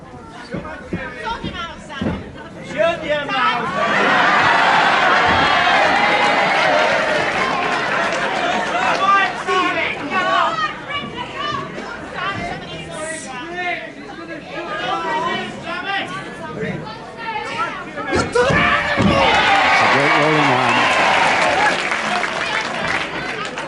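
A televised professional wrestling crowd cheers and applauds loudly in a hall, with surging waves of clapping, shouts and chatter rising and falling, and a commentator's voice talking over the din.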